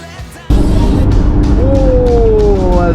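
A Skoda car on a long road trip drives along with a loud, steady engine and road rumble that starts abruptly and continues close by, with a faint rising whine over it.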